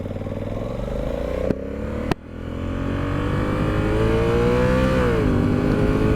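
A 2021 Honda Africa Twin DCT motorcycle engine is heard close up while riding. It drones loudly, drops in pitch at two quick dual-clutch upshifts, then climbs steadily under wind noise.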